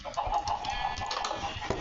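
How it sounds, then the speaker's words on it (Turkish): Chickens cluck in a video game, a quick run of close, rhythmic clucks and short calls that carry on without pause for the whole short stretch. "şekilde bir sürü tavuğumuz var."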